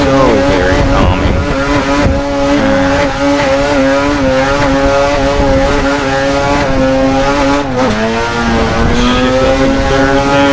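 Car drifting in the Assetto Corsa racing game, engine revving hard with rising and falling pitch as gears shift, mixed with tire squeal, loud and continuous up close, with a voice talking intermittently.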